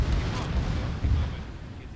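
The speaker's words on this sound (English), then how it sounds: "That was enemy IDF." An enemy indirect-fire artillery shell explodes in a military video game, a deep rumbling boom that rolls out over two seconds, with a person talking over it.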